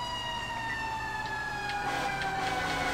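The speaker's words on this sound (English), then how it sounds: "My sirens are really loud" A fire engine siren blares steadily and loudly up close, a sustained tone over a constant engine rumble.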